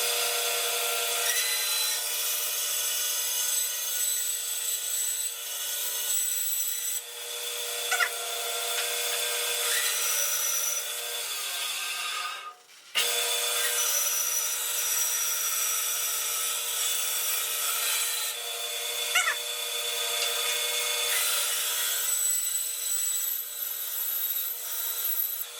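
Grizzly bandsaw fitted with a carbide blade cutting wood: a steady high whine and rasp of the blade through the workpiece, held at a fairly even level, with one brief drop midway before the cut resumes.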